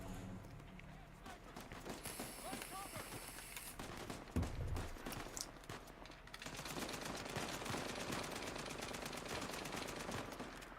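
AK-47 fire in Uncharted 4 rattles in dense automatic bursts, mixed with other game sounds and effects. The shooting builds in the second half while a voice talks faintly underneath.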